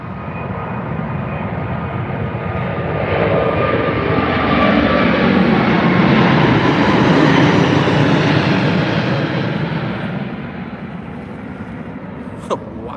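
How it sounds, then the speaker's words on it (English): A British Airways Airbus A380 departing Heathrow on a low takeoff, its jet engines roaring in a broad, steady wash that swells to a loud peak mid-pass and then slowly recedes. "Nope, it is the British Airways A380. Fantastic, stunning takeoff for the airline."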